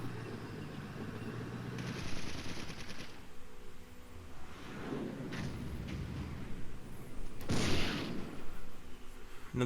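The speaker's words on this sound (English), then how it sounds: "Another shot by our tank." Tank cannon fire in the wargame Flashpoint Campaigns cuts through continuous rattling gunfire and rumbling battle noise, with a sharp blast near the end.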